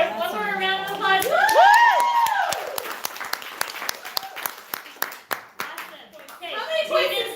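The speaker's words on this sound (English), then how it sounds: "One more round of applause." An audience at a monthly training session claps in a burst of applause mixed with loud talk and cheering voices, the clapping thinning to scattered claps before fading.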